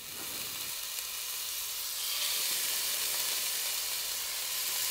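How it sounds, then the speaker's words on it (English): Goat meat browning in very hot oil for a Filipino kaldereta stew: a loud, continuous sizzle and frying hiss that swells slightly midway, steady and close, with no voices. "And then we will just brown the meat, give it some flavor, some color"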